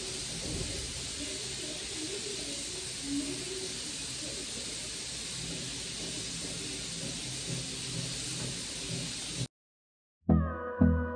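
A steady, faint hiss of steam escaping a pressure cooker runs continuously for several seconds, then cuts out and music begins.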